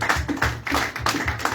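A church congregation claps in acclaim of the Lord, steady rhythmic hand claps about three per second, fairly close and full, over a low, continuous background murmur.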